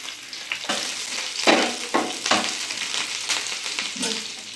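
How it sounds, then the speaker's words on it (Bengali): Chopped garlic, ginger, curry leaves and slit green chilies hit hot oil with a loud, close sizzle that flares in bursts as they are stirred, then settles into a steady fry. "তেল গরম হয়ে গেছে, ও দিয়ে দেবো রসুন কুচো, আদা কুচো, কারি পাতা,"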